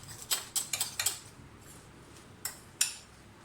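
A utensil mixes egg whites with green chillies in a bowl, giving about seven light, sharp clinks against the bowl, quick at first and then two more after a pause.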